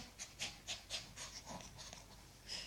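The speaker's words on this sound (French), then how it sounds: "donc ça c'est mon chien" A dog panting nearby in quick, rhythmic breaths, several soft huffs following one another over a few seconds in a quiet indoor room.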